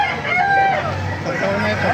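A laying hen vocalizes close by at a market, with harmonic crowing-like calls and clucks over a low background hum, with faint voices around it.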